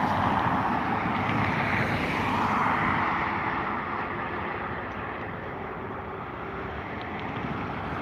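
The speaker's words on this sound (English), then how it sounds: "It has now begun its takeoff roll." Turkish Cargo Airbus A330 on its takeoff roll at Dublin Airport at sunset, a broad, continuous jet engine roar heard from a distance, steady and then easing slightly, with wind noise throughout.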